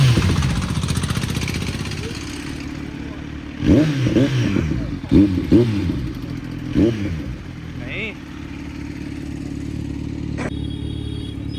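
A Kawasaki Z900 four-cylinder engine fitted with an Arrow exhaust idles close by, then is blipped in several sharp revs that rise and fall before settling back to a steady idle, with brief talk over it.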